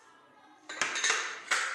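A spoon clinks and scrapes in a bowl while chili sauce, chili flakes and oregano are mixed, with a few sharp taps over about a second, close and fairly quiet.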